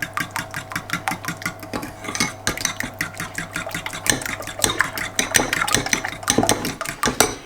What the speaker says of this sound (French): On mélange du coup la crème avec les œufs et les zestes de citron.